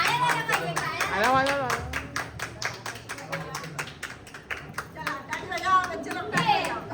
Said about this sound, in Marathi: टाळ्या झाल्या पाहिजे, टाळ्या